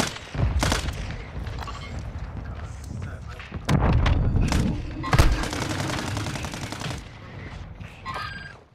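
Rapid video game gunfire from Call of Duty: Modern Warfare II, bursts of automatic fire and heavy shots crackling over several seconds, loud and close, with players talking over the shooting throughout.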